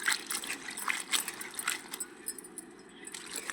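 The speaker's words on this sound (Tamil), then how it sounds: "பாருங்கள், இதையும் நல்லா தண்ணியில் போட்டு அலசிடலாம்." About fifty grams of green chillies are swished and rinsed in a bowl of water in a home kitchen, with light splashing, clinking and trickling at close range and no talk.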